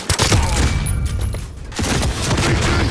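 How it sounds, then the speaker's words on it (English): A grenade blast in a multiplayer shooter game, set amid a loud barrage of gunfire and booming impacts with sharp transient cracks, sustained and dense throughout, with faint voice chat underneath. "Grenade out."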